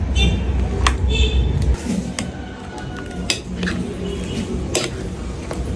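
A large rice spoon stirs a fruit salad of apples, banana and mango juice in a bowl, producing close, repeated clinks and wet scraping over a low background rumble.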